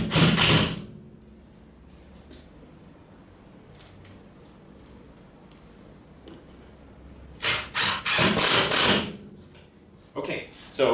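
A power driver runs screws into wall studs to fix the mounting brackets for a Napoleon NEFL50FH linear electric fireplace: a short loud whir at the start, then a longer burst of driving near the end and a final brief buzz, with quiet between.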